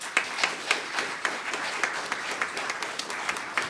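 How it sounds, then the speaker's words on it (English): An audience applauds a speaker returning to the stage at a Northwords and Music event: dense, steady clapping from a crowd with sharper individual claps standing out, sustained throughout at moderate loudness. "Give her a big round of applause."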